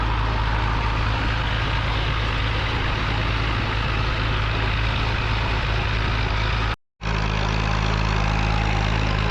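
A 1949 Fordson P6 Major tractor climbing a hill at a Scottish country show, its diesel engine and exhaust roaring loud and steady, broken by a sudden momentary cut before the rumble resumes.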